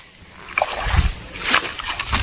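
A large fish thrashes at the water's surface while being landed on a natural fishing spot, giving close, loud, irregular splashes and sloshing with a few sharper bursts.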